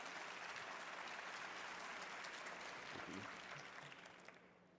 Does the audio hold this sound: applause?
yes